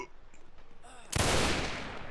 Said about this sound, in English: fire the guns, fire the guns